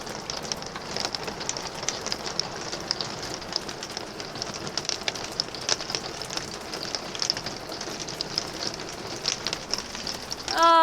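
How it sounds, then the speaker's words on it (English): Hail drums on a roof with the microphone held up close, a dense, loud, continuous patter of hard sharp impacts that persists throughout with no voices over it. "You can hear the hail."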